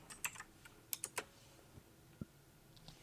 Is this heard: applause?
no